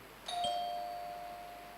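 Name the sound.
quiz contestants' answer bell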